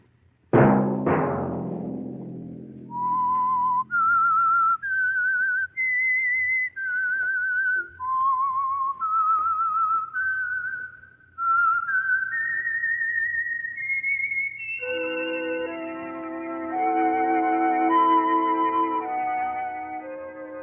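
A lone whistler performs the eerie theme of The Whistler radio mystery program: a sharp opening strike, then a slow, wavering melody of separate held notes, followed by a brief orchestral swell.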